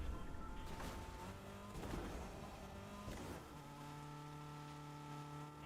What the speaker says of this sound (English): Yeah, we have a Thanos car.